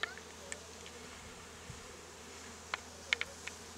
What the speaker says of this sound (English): There's a queen bee right here, folks.